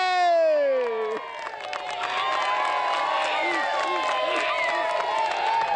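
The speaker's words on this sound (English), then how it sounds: "Give us a cheer." A crowd in the small California town of Smartsville cheers and shouts, a spoken call fading into a burst of whoops and clapping that carries on at moderate loudness, with voices mixed in.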